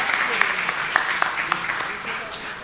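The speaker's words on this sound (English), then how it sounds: "Give a round of applause to him." An audience claps for a keynote speaker at a university orientation programme, with light, steady applause and a few sharper claps standing out, while a voice carries on over it.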